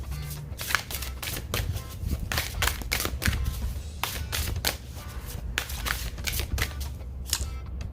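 Tarot cards are shuffled close up in quick riffling bursts, a steady run of crisp flicks and slaps with short pauses between.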